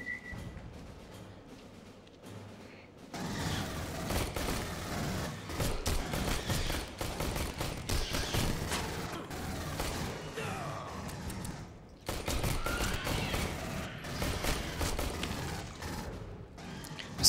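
A sidearm with infinite ammo firing in the Aliens: Colonial Marines video game, a long rapid stream of shots that pauses once and then resumes, over game noise.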